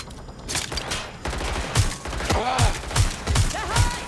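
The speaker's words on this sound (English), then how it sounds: "Being shot at here!" Gunfire in Watch Dogs Legion, a rapid burst of repeated sharp shots and thuds, loud and close, with a few whistling ricochet-like tones between blasts.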